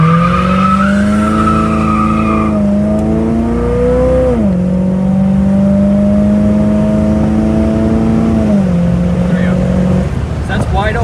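A 1975 Chevrolet Monza with a 350 V8 accelerates at wide open throttle through first, second and third gears. Engine pitch climbs steadily and drops at each shift under road noise.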